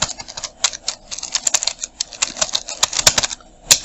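Rapid typing on a computer keyboard as text is entered in Photoshop: irregular bursts of sharp, close key clicks with brief pauses and a few louder taps.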